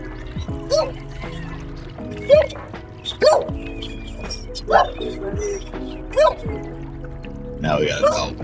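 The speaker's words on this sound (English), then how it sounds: "Now we got a dog barking outside that cow." A dog barks outdoors in a rural spot near a cow, with about six separate barks at irregular spacing, moderately close, and occasional background noise between them.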